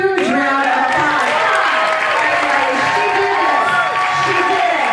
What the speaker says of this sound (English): we've got to give Susan a huge round of applause